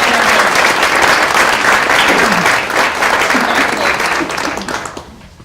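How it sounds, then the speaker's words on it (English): A large audience at a university honors convocation applauds scholarship recipients with sustained, dense clapping that stays loud for several seconds and then gradually tapers off. "could we have one final round of applause for all of our scholarship recipients?"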